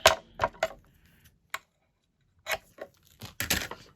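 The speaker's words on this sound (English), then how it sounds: "I'm going to use a scissor to cut it" Scissors cut a strip of washi tape for a planner page, making several sharp, close snips and crinkles in short irregular bursts separated by quiet gaps.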